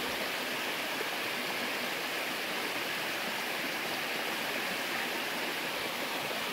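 A river rushes steadily through countryside farmland, a broad, even hiss of flowing water heard up close with no change in level and no voices.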